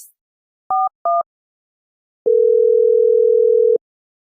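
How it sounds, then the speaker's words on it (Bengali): A phone call being placed: two short paired electronic beeps, a brief pause, then a steady, clean dial tone that holds for about a second and a half before cutting off. There is no voice. "এই নে ফোনটা লাগা"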